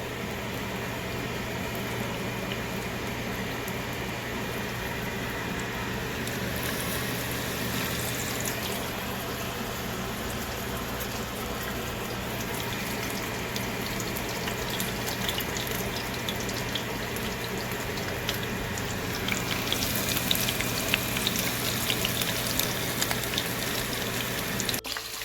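Shrimp frying in oil in a pan, a dense steady bubbling sizzle that holds throughout and grows a little louder and crackly near the end.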